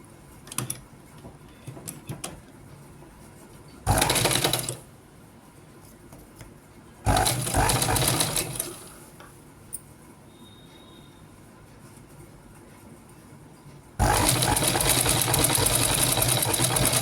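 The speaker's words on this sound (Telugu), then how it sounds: "నేను స్టిచ్ చేసేస్తాను." Sewing machine stitching a blouse back neck, loud whirring bursts of stitching separated by quiet pauses with faint handling sounds.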